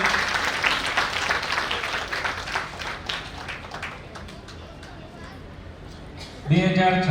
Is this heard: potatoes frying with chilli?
no